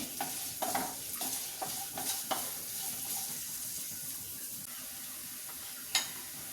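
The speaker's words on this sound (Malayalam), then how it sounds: "ഉള്ളി ഇട്ട് കൊടുത്തു കുറച്ച് ഉപ്പ് ഒന്ന് വാടിക്കിട്ടട്ടെ" Onions frying in a pan with salt give a soft, steady sizzle, with a string of close scraping stirs early on and a single sharper knock near the end.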